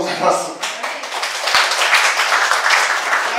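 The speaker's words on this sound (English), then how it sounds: "thanks for the applause" An audience applauds at a sushi-making demonstration, a dense wash of clapping that holds steady throughout, with a few louder knocks mixed in.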